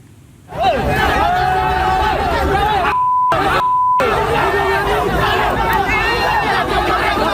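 Angry crowd of protesters in front of the DPR RI building in Central Jakarta, loud continuous shouting and clamor with a suspected infiltrator being mobbed, broken briefly by censor beeps.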